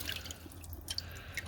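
Water dripping after metal pins are rinsed during gold recovery with acid peroxide: a few faint, sparse drips in a quiet setting.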